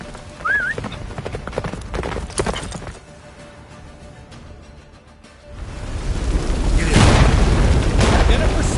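A horse gallops in The Witcher 3 as a blizzard closes in, with loud rhythmic hoofbeats mixed with game sound effects. A deep rumbling roar builds and swells toward the end.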